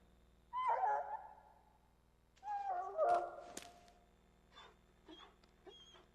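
A dog in the game Dragon Age: Origins whimpers in two drawn-out high whines, followed by a few fainter short yips and whimpers, close and fairly quiet.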